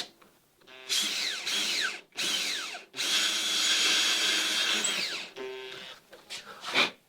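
A power drill bores a long, straight hole in wood for a wooden boat, running in several bursts of whining spin with short pauses and a final brief stop-start, close and fairly quiet.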